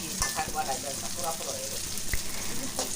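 Chopped green chillies dropped into a hot pan for chicken and potato curry, a moderate crackling sizzle with a couple of sharp clinks, fairly close.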